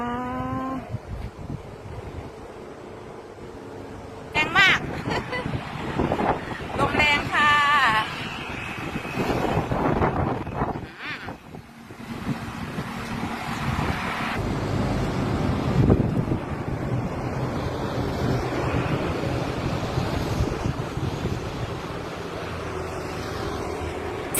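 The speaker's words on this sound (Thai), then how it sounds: "ลมแรง" Strong wind blows outdoors at a scenic spot, buffeting the microphone with a loud, continuous roar that swells and dips throughout.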